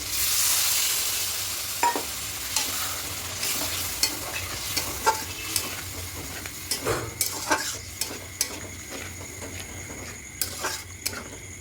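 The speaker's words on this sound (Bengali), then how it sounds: "আলুগুলো দিয়ে মশলাটা কষিয়ে নেব" Potatoes and spice paste stir-fry in a pan for a vegetarian potato-paneer dum, with a steady sizzle under repeated scraping and clicking strokes of a spoon against the pan, fairly close and without talk.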